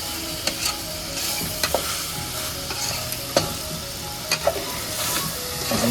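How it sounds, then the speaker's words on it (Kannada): Food frying in a pan with oil for a Hyderabad-style fry, a steady close sizzle and crackle broken by sharp clinks and scraping stirs at irregular intervals, no voices. "ಫ್ರೈ ರೆಡಿ ಆಗ್ತಾ ಐತೆ"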